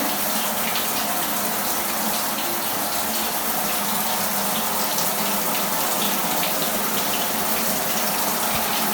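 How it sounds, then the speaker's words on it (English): Shower running in a home bathroom, a steady, loud hiss of spraying water that holds constant throughout with no voices. "This is my shower."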